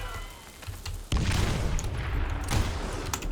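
Loud shotgun blasts in the Western shooter video game Call of Juarez: Gunslinger, breaking out suddenly after a quieter moment and continuing as dense, booming gunfire with a few sharper reports until the end.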